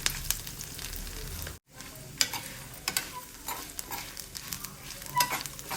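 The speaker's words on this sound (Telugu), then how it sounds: "ఇందులో అల్లం ముక్కలు బాగా వేగాలి" Ginger pieces and tempering for ginger chutney fry in a pan with a close, bright crackling sizzle, broken by brief stirring scrapes and one short dropout.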